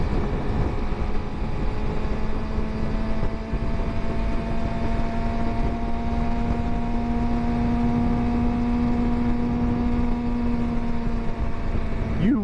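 A 2023 Suzuki GSX-R750 motorcycle engine drones loudly and steadily while riding in second gear, its pitch holding and then climbing slightly near the end, with wind rush underneath.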